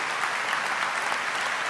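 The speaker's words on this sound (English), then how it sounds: "More applause at the end," A brief stretch of dense, even clapping from a large audience at the SBC convention, continuous and fairly loud with no speech over it.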